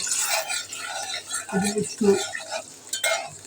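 Beef spleen is stirred in hot oil with cardamom and cinnamon: soft scraping and clinking of a utensil over a light sizzle, with a voice talking over part of it.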